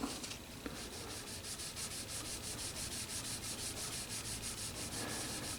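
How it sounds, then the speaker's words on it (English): A gray Scotch-Brite pad wet sanding a lacquer finish, making quick rhythmic back-and-forth scrubbing strokes, close and steady with a soft rasping texture and no talk. "I'll go to this gray Scotch Brite. This is kind of about a 1200 grit."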